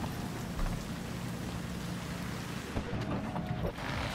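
Rain pours in the video game Cyberpunk 2077: Phantom Liberty, a dense, even hiss of drops on surfaces that carries on without a break, with a soft low rumble underneath.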